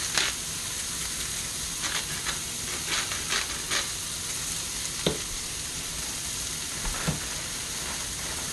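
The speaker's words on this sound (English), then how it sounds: "caramelizing some of these onions" Onions caramelize in a hot pan with a steady, close frying sizzle and hiss, broken by a few sharp crackles and spatters.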